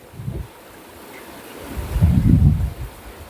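Water spraying into a carp breeding pond, a rough splashing wash with low rumbling surges that swell loudest toward the end, recorded outdoors with wind buffeting the microphone.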